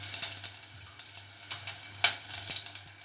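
Green chilies and curry leaves fry in hot oil in a pan for besan and buttermilk patewadi, giving a steady close sizzle with small crackling pops throughout and no voices.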